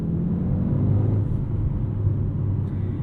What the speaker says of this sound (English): I love the little turbo noises you get from this 2-liter.